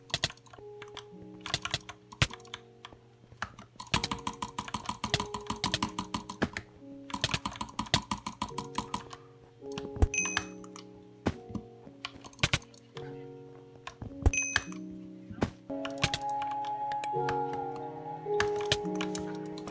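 Rapid typing on a computer keyboard with one keycap removed, dense close clicking and clacking in bursts during a game, over steady background music.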